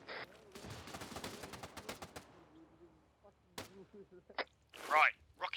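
Rapid machine gun bursts crackle in an Arma 3 battle, a dense volley early that thins into scattered shots, with a voice talking over the later part.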